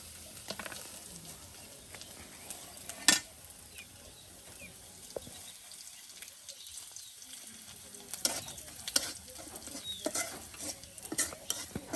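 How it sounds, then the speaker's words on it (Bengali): Onion and garlic frying in oil for a dal tempering at an outdoor riverside cookout, with a steady soft sizzle, occasional stirring scrapes and a few sharp clinks of a utensil against the pot. "আর এদিকে পেঁয়াজ রসুন কিন্তু সুন্দর করে বাগার দিয়ে নেওয়া হচ্ছে তেলে ভেজে ভেজে একদম নেওয়া হচ্ছে"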